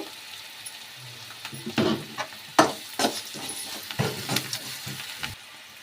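Onions fry in a pan until golden, a close sizzle under repeated scraping and stirring strokes that come in irregular bursts, with no talk.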